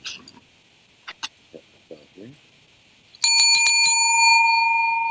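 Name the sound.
bell ringing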